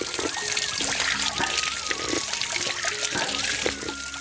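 Natural water trickles steadily in the Chitrakoot forest, a continuous close splashing and dribbling that fills the whole stretch, with faint background voices.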